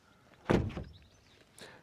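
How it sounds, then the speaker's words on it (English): A single dull thud as the frameless door of a Leapmotor B05 electric car swings shut, followed by a faint second knock; no talking. "it's frameless doors indeed. That's unusual. and they also don't sound too good."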